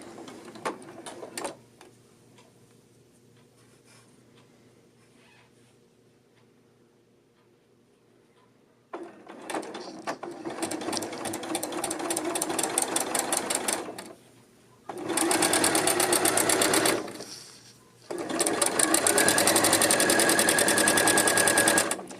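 A sewing machine stitches a hem on a dolman sweater, starting after a quiet stretch and running in three loud, fast-rattling bursts separated by short pauses.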